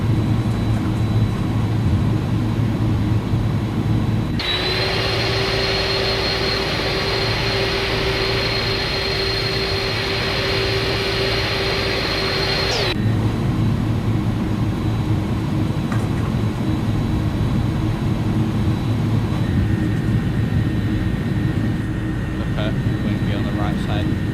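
Airliner in a flight simulator game taxiing toward the runway at San Diego on an overcast day, a steady engine whine and hum with a stronger tonal roar swelling in the middle stretch, then easing back; talk runs throughout.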